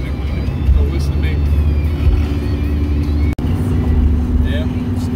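Steady low road rumble of a car cruising on a highway around 70 mph, continuous and close from inside the cabin, with a brief dropout partway through.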